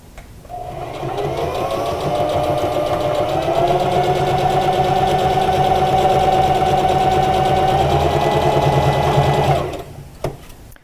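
A sewing machine runs in one long steady burst, stitching cloth pieces for an Olson face mask, its fast whirring hum close and loud for about nine seconds before it stops and a small click follows.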